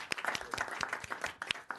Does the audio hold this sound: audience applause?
yes